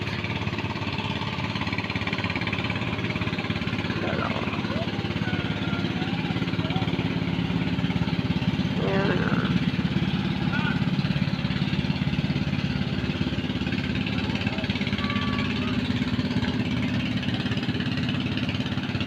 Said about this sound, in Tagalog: And here comes another boat